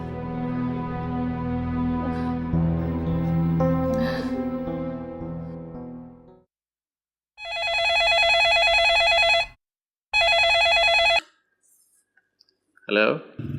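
A telephone line rings in two long electronic bursts with a pause between them, loud and clear, after someone speaks and before a short voice at the end; the call is to a father about a mother's fever.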